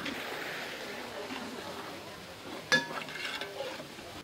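Tomatoes are sautéed on a low flame in a large pot over a wood fire outdoors, making a soft, steady sizzle and scraping under quiet talk, with one sharper metallic clank partway through.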